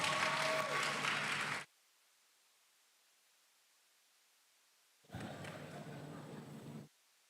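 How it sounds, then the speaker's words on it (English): Audience applause for a high-school student at an ICT club conference: a loud burst of crowd clapping that stops abruptly, a few seconds of near silence, then a second stretch of clapping that cuts off again. "Please give her a round of applause."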